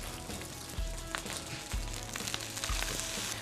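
Mackerel fried rice stir-fried in a wok, giving a steady close sizzle and crackle of frying with periodic low thumps and scrapes as the rice is pressed and tossed.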